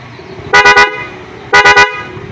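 Modified double horn fitted to a Euro 150 motorcycle, sounding two loud bursts of three quick honks each, separated by about a second, with low background noise between.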